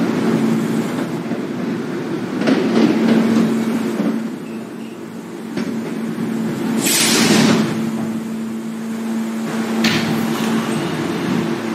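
An F Express train bound for Kew Gardens–Union Turnpike at the 21st Street–Queensbridge subway station in New York, rumbling steadily under a droning motor tone, with brief screeching and clanking bursts rising in the middle.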